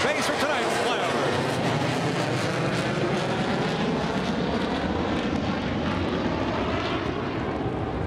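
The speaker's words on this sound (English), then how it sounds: "overhead, the F-22s from Tyndall Air Force Base for tonight's flyover" F-22 jets from Tyndall Air Force Base passing over a NASCAR race at Daytona: a loud, steady broadband roar that fills the whole stretch, with crowd noise beneath it.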